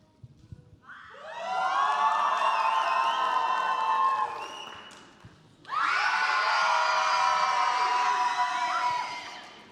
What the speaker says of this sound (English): I want you to cheer as loud as you can